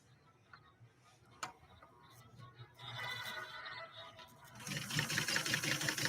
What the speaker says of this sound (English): Now we can try sewing this again.